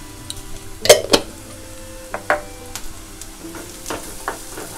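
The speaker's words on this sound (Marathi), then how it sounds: "जरा तेलावर परतून घेऊया मसाला." Malvani masala spice fries in oil in a pan for a spring onion greens dish, a faint sizzle broken by sharp clinks of a spoon stirring against the metal, up close with no talking.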